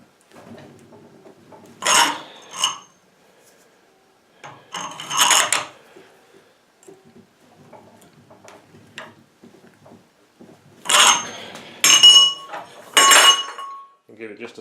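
A metal pipe slides down over the metal handle of a homemade barrel bung wrench to bend it, giving a few short clanking and scraping bursts spaced apart in a quiet room.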